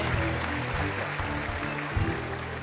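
Studio audience clapping on the Turkish TV talk show Beyaz Show, a steady dense roar of hands that runs through the whole stretch over a low musical hum.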